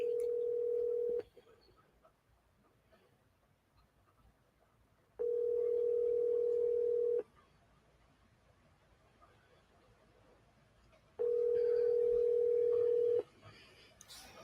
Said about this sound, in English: Maybe I should just call him on the phone or something.